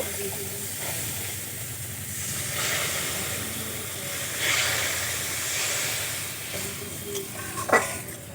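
Water is poured onto fried curry masala in a pan for egg poach curry. It hisses and sizzles into steam in a soft, continuous rush, with a brief sharper clatter near the end.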